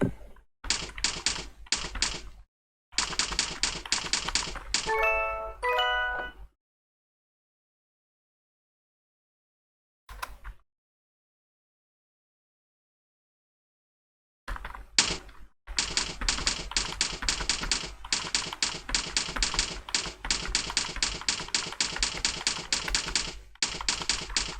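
Rapid typing on a computer keyboard during a typing lesson, dense bursts of key clicks broken by a few pauses and a single isolated tap, close and crisp, no talk.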